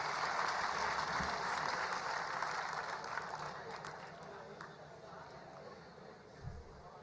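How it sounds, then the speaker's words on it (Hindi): An audience at an annual skills convocation ceremony applauds in welcome of Prashant Uke, a deaf trainee from Madhya Pradesh, a broad, faint clapping wash from the crowd that gradually fades over several seconds. "जोरदार तालियों के साथ स्वागत कीजिएगा प्रशांत उके का"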